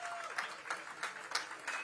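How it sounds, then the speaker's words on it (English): Audience applause for environmental award winners at an Earth Day and Arbor Day celebration, a soft, fairly distant continuous patter of many hands, with faint voices beneath. "Let's give them all a round of applause"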